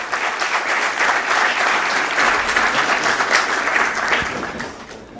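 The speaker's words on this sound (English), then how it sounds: "Ladies and gentlemen, a big round of applause for them." Audience applause fills a listing ceremony hall, steady and dense clapping from a large crowd, sustained throughout before tapering slightly at the end.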